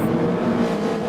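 Race cars launch together at the start of a sim racing video game race, a dense steady engine roar with revving under it, loud and continuous throughout.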